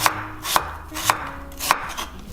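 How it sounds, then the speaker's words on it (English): A knife slices through a white onion on a cutting board for a pork adobo, four sharp, evenly spaced chops close by with quiet gaps between them and no talking. "So just slice your white onion."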